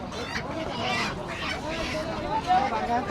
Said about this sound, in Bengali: এই দেখুন নতুন নতুন হাঁস আসছে